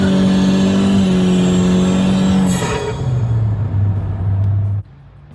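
A BMW E92 M3 with a naturally aspirated engine and an added induction sound tube revs loudly, holding a strong steady tone. It then drops into a lower throaty idle and cuts off abruptly near the end.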